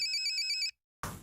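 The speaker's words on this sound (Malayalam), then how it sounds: "ഫോൺ അടിക്കുന്നു." Phone ringtone in a comedy sketch: a loud, close electronic ringing with a steady pulsing pattern that stops after a moment, followed by silence and a brief burst of noise.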